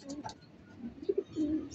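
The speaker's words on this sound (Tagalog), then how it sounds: "libo rin na kalapati to." Racing pigeons coo softly a few times, low throaty calls in short bursts against a quiet background.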